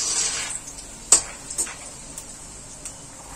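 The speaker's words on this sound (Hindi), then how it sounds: "अपनी मूंगफलियां डालेंगे, उन्हें भी हमें डीप फ्राई करना है।" Peanuts deep-frying in hot oil for a sabudana namkeen mix, giving a continuous soft sizzle with a few sharp pops and crackles scattered through it.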